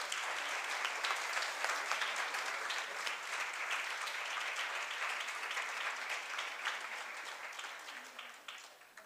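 An audience at a conference on women in the changing world of work gives a steady round of applause, a dense wash of many hands clapping that holds evenly for several seconds before tapering off.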